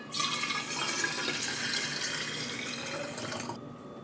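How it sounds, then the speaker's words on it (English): Tap water runs into a water bottle with a steady, close rushing stream for about three and a half seconds, then cuts off abruptly. No voices. "I need to fill up my water before we go"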